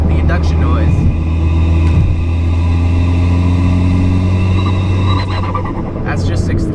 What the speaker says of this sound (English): But as you can clearly hear, the induction noise.